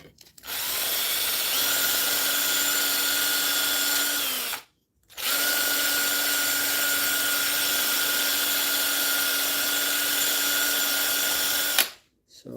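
Power tool running with a 400 grit abrasive, a loud steady high-pitched whine in two long runs separated by a brief stop, ending with a short final burst.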